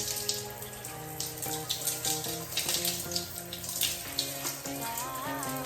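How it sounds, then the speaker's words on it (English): Water runs steadily from a tap while hair is rinsed out after a moringa and rice water hair mask, a continuous splashing flow under background music. "I'm just gonna go ahead and rinse out my entire head"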